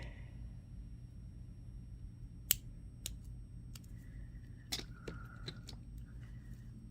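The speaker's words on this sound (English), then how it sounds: "So let's get that trimmed better here." Small scissors or cutters trim beading wire on a handmade fossil-heart necklace, giving a few quick, faint clicks and snips against a quiet low background hum.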